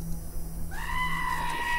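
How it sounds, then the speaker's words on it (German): A goat in the game Wasteland 2 lets out a single drawn-out, wavering bleat that starts partway through and holds to the end, loud and near over a low background hum. "Sie tritt mich, diese verdammte Ziege."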